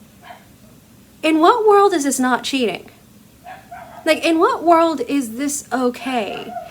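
A dog barks in the background in two bursts of several sharp yips and barks, heard under a person talking continuously.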